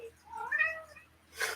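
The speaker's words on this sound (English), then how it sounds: "It's my cat." A cat gives a single clear, rising-then-falling meow at moderate distance in a quiet room, followed by a brief soft rustle.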